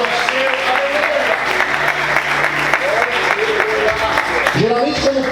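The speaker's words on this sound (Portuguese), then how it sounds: "aplauda ao Senhor, Deus." A church congregation applauding during a service, a steady wash of clapping with voices and music-like tones mixed underneath.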